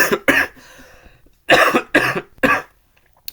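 Four loud, harsh coughs close to the mic, a single one first and then three in a quick run after a short pause, with quiet gaps between.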